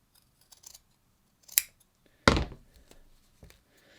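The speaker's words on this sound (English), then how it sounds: "I'm just going to cut it off for the purposes of making a pattern piece." Scissors snip through sports bra fabric while a pattern piece is cut, giving a few sharp, close cuts spaced apart in an otherwise quiet room, with the loudest snip near the middle.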